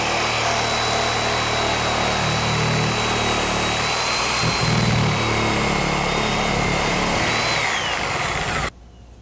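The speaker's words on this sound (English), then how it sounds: "I'm going to come back over with my reciprocating saw and just cut a line right here" A reciprocating saw cuts through drywall during a window install, giving a loud, continuous buzzing whine that runs steadily and then cuts off abruptly near the end.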